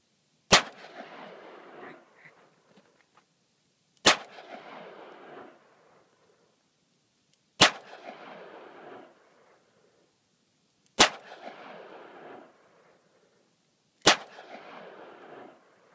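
Five sharp, loud gunshots ring out about every three and a half seconds, each followed by a short rattling scatter of debris as rounds hit a pile of Hostess snack cakes outdoors.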